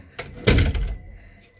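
A door opens with a brief bump followed by a heavier thud and a fading rattle, close by and quiet apart from the knock.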